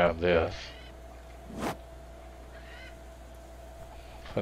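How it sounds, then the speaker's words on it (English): A noisy bird in a survival video game gives a short burst of honking, goose-like calls, then falls quiet with a later faint call over a low steady hum. "It's a noisy bird."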